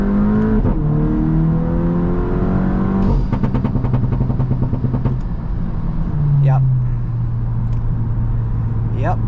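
Car exhaust on an adjustable crackle tune revs up and falls back, with rapid popping crackles bursting in on each high-rpm pull before settling to a smooth idle drone, loud and close.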